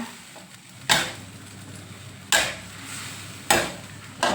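Japanese mushrooms fried with garlic in a pan give a steady low sizzle, broken by three sharp, loud scrapes of the spatula spaced about a second and a half apart, close by with no voice.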